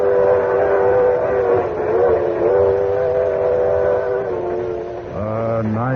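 Limited Express passenger train running as a radio drama effect: a steady, loud rumble of rolling wheels with sustained whistle-like tones throughout, shifting into a rising mechanical tone near the end.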